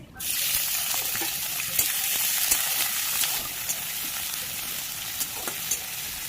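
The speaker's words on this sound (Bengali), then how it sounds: "তেলটা এবার খুব ভালো করে গরম হয়ে এলে আমি তেলের মধ্যে কুচো করে রাখা পেঁয়াজগুলো দিয়ে দেবো।" Chopped onions hit hot mustard oil in a pan, setting off a sudden loud sizzle that settles into a steady, close frying hiss, dotted with small pops and crackles throughout.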